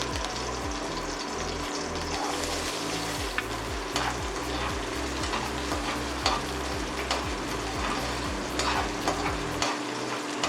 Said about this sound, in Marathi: आयदनान गरम तेल करून तितून सासवां, बारीक चिरलेल्यो मिरसांगो आनी कांदो घालून बरो तळसून घेवया।